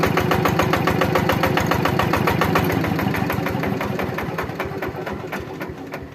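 A Yanmar two-wheel tractor's small engine idles steadily with a rapid, regular chugging pulse, loud and close, tapering slightly toward the end.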